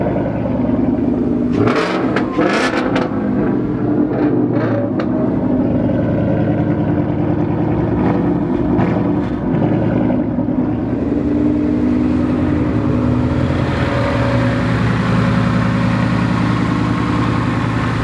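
A Ford Mustang GT V8 with a Corsa Extreme exhaust idles with a loud, deep rumble, punctuated by several quick throttle blips, then drones on steadily.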